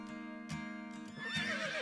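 An Icelandic horse neighs outdoors in Iceland: a loud, high, quavering whinny with rising and falling pitch, close by. It stands alone with no voices.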